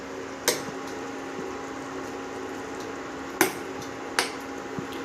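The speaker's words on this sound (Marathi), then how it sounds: "आपण तिला थोडं चमच्याने हलवू." A spoon stirs cooked khichdi in a pot, giving three sharp metallic taps against the pot's side over a steady low simmering hum.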